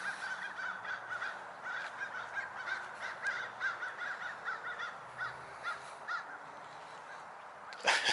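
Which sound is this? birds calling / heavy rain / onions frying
birds calling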